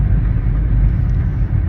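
Steady low engine rumble and road noise from inside a car on an evening drive home, continuous and fairly loud with no talking.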